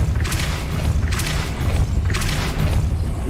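A Depulso force spell cast in the Hogwarts Legacy video game, heard as three whooshing bursts at a steady pace over a constant low rumble of background score.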